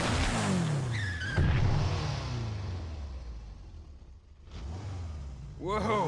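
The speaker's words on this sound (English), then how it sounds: "A woman named Trish launches through the front door on a motorcycle." In Devil May Cry on PS2, a motorcycle bursts through a front door with engine roar and screeching tires, loud and close, under a narrating voice, with a final revving squeal.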